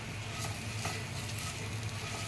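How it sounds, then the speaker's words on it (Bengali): Fried potato pieces with chaat masala stirred in a pan, a steady soft sizzle with scraping stir noises throughout, no voices. "এটা দিয়ে আমি এখন ভালো করে নাড়াচাড়া করে নেব"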